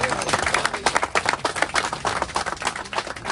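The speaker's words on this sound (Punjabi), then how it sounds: "ਹਾਂਜੀ ਤਾੜੀ ਮਾਰ ਦੋ ਇੱਕ ਵਾਰ" An audience at a student sit-in protest bursts into brisk clapping, many hands slapping in a dense, uneven rhythm close by, with some murmured voices underneath.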